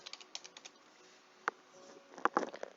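Keystrokes on a computer keyboard while entering text into a community website editor, a few quick isolated taps followed by a denser burst of clicks, close and fairly quiet with no talking.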